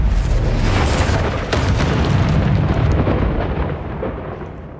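A Confringo blasting spell explodes in Hogwarts Legacy, a loud booming blast with a sustained rumbling roar that carries on and slowly fades over several seconds.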